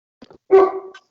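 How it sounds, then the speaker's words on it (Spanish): A single short dog bark rings out close by, preceded by a couple of faint yips. "es mi perro que está ladrando"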